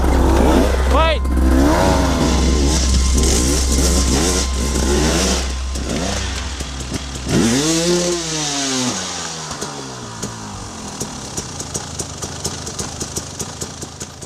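A KTM trail motocross bike with a special engine revs on an off-road trail, idling low then climbing into loud rising and falling throttle blips, with voices talking over it.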